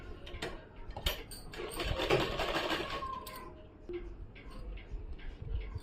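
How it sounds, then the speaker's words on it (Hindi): A sewing machine runs in quick bursts while stitching folded fabric for a woman's two-layer kameez, its rattling motor fairly close with clicks and clatter of handling between runs. "अब मैं इसे इस तरह से फोल्ड करते हुए इस पे सिलाई डालूंगी"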